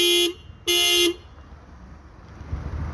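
A car chirps twice when locked with its remote, two short bright electronic beeps in quick succession, fairly close, followed by quiet outdoor background hum.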